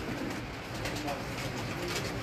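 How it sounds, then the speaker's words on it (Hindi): A pet pigeon, a starred breed kept for flying competitions, coos softly at close range under steady background noise, with a low murmur and a possible voice mixed in. "ये हमारा तारों वाला कबूतर है"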